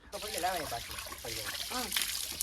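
Steady rushing water hisses throughout in a forest along the old stone stairway of Girnar, with a voice talking over it in bursts.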